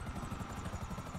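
A helicopter in a GTA Online video game churns with a steady, low rotor thump, loud and close, over a brief stretch.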